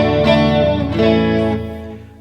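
Rafferty Jazzmaster-style electric guitar played with a clean tone through chorus, a few ringing strummed chords sustaining loudly and alone before decaying near the end.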